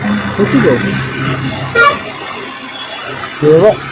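Road traffic rumbles nearby as a large vehicle passes and sounds its horn twice in short toots, with people talking over the noise.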